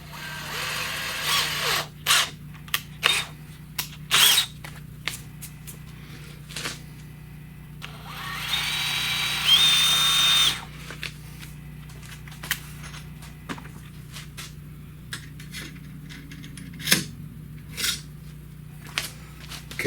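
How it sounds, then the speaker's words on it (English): A drill drilling a hole for a Honda muffler install runs in short, choppy bursts with clicks and taps between them, including one longer whirring stretch in the middle; no one speaks. "when we drill it, we're going to want to drill it to that size"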